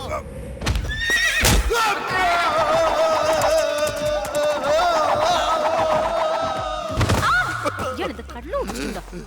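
A horse whinnies loudly and at length over clattering hooves and a crowd murmuring nearby, with sharp knocks at the start and end.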